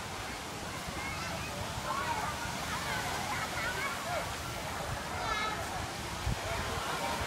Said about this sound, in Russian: Обошел здесь большой бассейн с волной, искусственной волной.